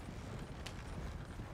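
Horses' hooves clip-clopping in a video game, a faint steady trot heard at a distance beneath low background noise.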